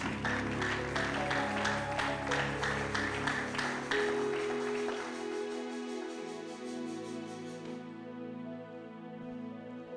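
A church congregation applauds during a French-language seminar service, steady rhythmic clapping over sustained organ or keyboard chords. The clapping fades after several seconds and leaves the held music ringing on alone.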